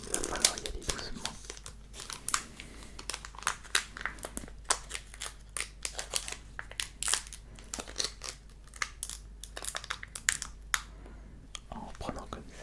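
A foil Pokémon booster pack from a Drattack V box is slowly peeled open without cutting the top, with close, dense crinkling and crackling of foil that runs on and on, under quiet whispered talk.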